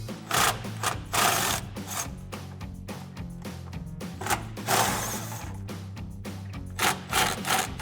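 An electric tool with a swivel socket spins out the front bumper bolts on a 2017-2022 Ford F-250, giving rattling, ratcheting bursts in an uneven rhythm, close and fairly loud.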